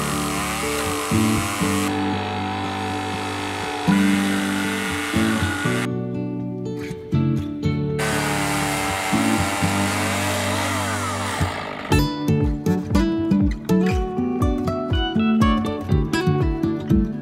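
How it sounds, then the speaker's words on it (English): A chainsaw mill cutting through wooden posts, the loud saw engine whining steadily near the mic and changing pitch under load, followed by choppier bursts as the cut continues. "We used a different type of chainsaw mill to do the posts."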